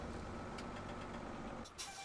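Engine of a tractor in Farming Simulator 17 on a North Frisian marsh farm, a steady low rumbling drone that runs close and loud, then cuts off sharply near the end, leaving a brief hiss.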